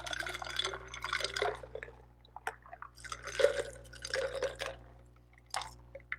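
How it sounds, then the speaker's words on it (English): Liquid pours and trickles into a big mug for a tiki cocktail, with faint splashing and dripping in irregular bursts over a low steady hum. "so I'm just going to pour this in"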